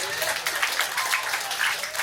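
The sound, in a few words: audience applause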